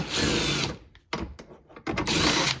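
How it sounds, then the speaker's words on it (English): A power tool whirs in two loud bursts, with short rattling pauses between them, as it backs out a 10 mm bolt on the hatch of a 2021-2026 Toyota Sienna. The sound is close and has no talking. "And now you have a 10 millimeter head bolt right here to remove."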